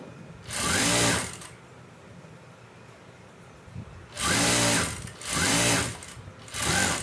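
A sewing machine stitches folded cloth lining in four loud, close bursts, the first near the start and three more in quick succession toward the end, with quiet pauses between them.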